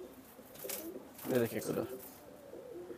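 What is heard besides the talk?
pigeons cooing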